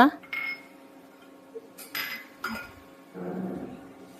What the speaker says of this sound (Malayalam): ഇവയെല്ലാം കൂടെ ചേർത്തൊന്ന് ഇളക്കി യോജിപ്പിച്ച് എടുക്കാം